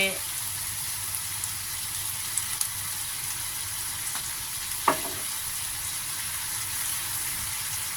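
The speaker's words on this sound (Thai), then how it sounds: "โอเคผัดเลยจ้า ผัดให้นิ่มเลยนะคะ" Chinese kale and canned fish stir-fried in a pan with soy sauce, giving a steady soft sizzle with light scraping and one sharp clack near the middle, heard without talk.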